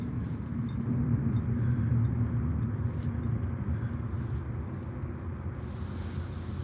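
Street traffic passes in a continuous low rumble with light wind noise, fairly distant and steady, with no talking over it.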